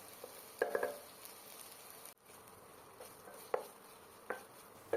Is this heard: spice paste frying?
yes